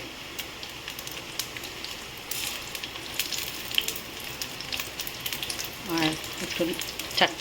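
Onions frying in hot ghee, a steady close sizzle and crackle with a few louder pops and spatters near the end, no talking.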